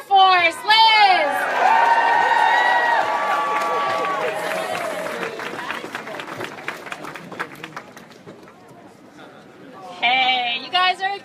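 Crowd at an outdoor climate rally protesting withdrawal from the Paris Agreement erupting in cheers, whoops and applause, loud at first and tapering into scattered clapping, with a fresh burst of shouting near the end.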